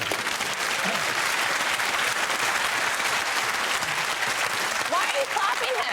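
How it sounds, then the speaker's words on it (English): A studio audience at a comedy panel show bursts into loud, continuous clapping that holds steady throughout, with a little crowd murmur and a faint voice mixed in. "Why are you clapping him?"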